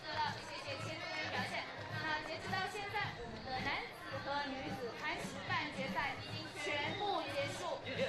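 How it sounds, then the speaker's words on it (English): Crowd of spectators at an IFSC bouldering World Cup semi-final in Wujiang chatters steadily as people begin to disperse, a dense, continuous babble of many voices at moderate distance with no single voice standing out. "So as the crowd begin to disperse, there is the scene here in Wujiang"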